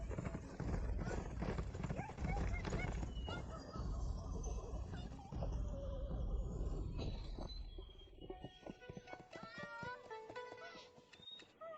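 A horse neighs and its hooves clatter up close amid a busy, dramatic mix of other animal calls and loud background sound, with voices speaking over it.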